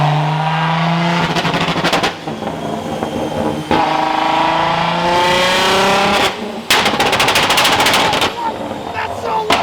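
Nissan GT-R making 1,500 wheel horsepower accelerating hard, a very loud, close engine roar climbing through the gears with sharp crackling bursts between shifts.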